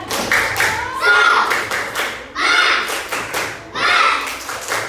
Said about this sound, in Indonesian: Nah, coba kita tepuk semangat lagi.